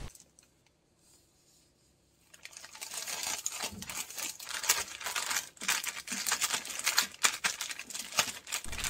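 Chopped fresh mugwort being packed into double zipper plastic bags: after a quiet start, busy crinkling and rustling of plastic and leaves with sharp handling clicks, fairly close and steady.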